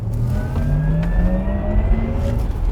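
A Porsche Taycan 4S Cross Turismo electric car accelerates hard with a loud, close whine that rises steadily in pitch over a rumbling road and wind noise, with no talk.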